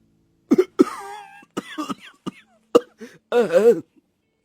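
In a cartoon hut filled with smoke from a clay cooking stove, several people cough in sharp bursts and clear their throats, close and loud, with brief voiced groans between the coughs.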